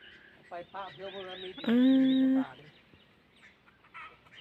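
Two or three hens clucking and flapping up into the air, close by, with short clucks and one longer squawk in a quiet setting.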